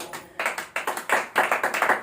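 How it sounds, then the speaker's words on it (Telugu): A church congregation claps loudly in short, uneven bursts of sharp, dense applause, with brief pauses between rounds and no speech. "గట్టిగా చప్పట్లు కొడదాం."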